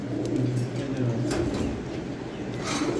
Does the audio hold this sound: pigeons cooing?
yes